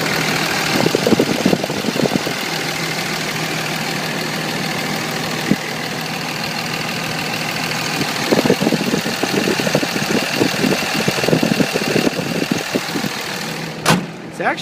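A 2006 Dodge Ram pickup with a 5.9 diesel idles steadily and fairly quietly, a continuous rumble with faint ticking knocks throughout and a sharp bang near the end.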